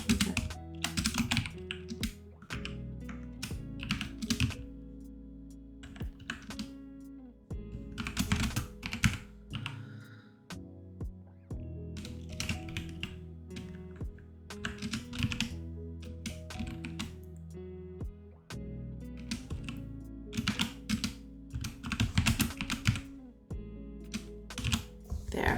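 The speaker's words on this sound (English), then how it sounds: "What is with my typing today?" Fast, uneven clatter of computer keyboard typing in bursts with brief pauses, close to the microphone and continuing for a long stretch, with little or no talking.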